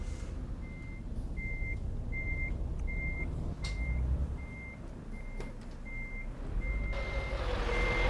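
A truck in Euro Truck Simulator 2, a Scania S New Gen, sounds evenly spaced reversing beeps, about ten steady tones repeating over a continuous engine rumble, with a brief air hiss near the end.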